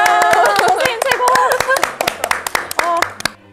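Several people clap in a short, close, uneven burst at the end of a gayageum ensemble practice, mixed with lingering plucked string tones and a voice speaking over it.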